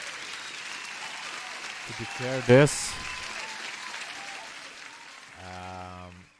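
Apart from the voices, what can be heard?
applause sound effect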